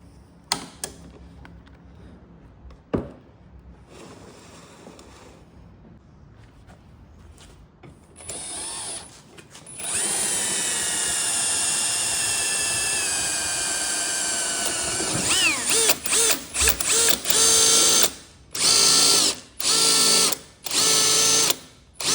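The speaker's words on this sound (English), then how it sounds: "I've leaned that drill over now" A power drill bores at an angle into a custom alloy tank, first with faint scattered knocks, then a loud sustained high whine for several seconds, followed by a series of short, evenly spaced bursts.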